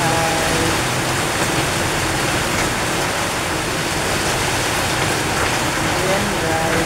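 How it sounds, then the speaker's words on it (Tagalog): Heavy rain pounds a house roof in a dense, unbroken hiss, loud and steady from start to finish, with faint tonal sounds briefly audible beneath it. "Lakas ng patak ng ulan sa bubong ng bahay."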